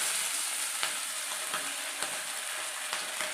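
Mackerel and sardines fry in hot oil in a Kerala home kitchen, giving a steady, dense sizzle with small crackles and pops throughout, no voices over it.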